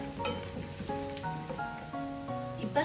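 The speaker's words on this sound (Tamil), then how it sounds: "இந்த கச்சானை போட்டு ஒரு கொஞ்சம் இந்த பட்டர்ல வதங்க விடுவோம்." Peanuts fry in butter with garlic, giving a busy crackling sizzle close up. Sustained tonal notes sit underneath throughout, and no one speaks.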